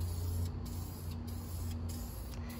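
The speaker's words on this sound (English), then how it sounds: "Getting the last coat sprayed on there." A steady hissing spray applies a paint coat to a 1959 Chevy Apache, running continuously with brief pauses, close by, over a low mechanical hum in the background.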